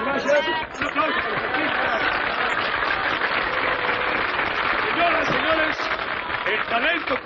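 Audience applause from a crowd at a live show in a 1982 Mexican film, a dense, steady wash of clapping held loud throughout, with shouting and chatter mixed in.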